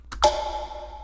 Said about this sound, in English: And I have like a bamboo shot sound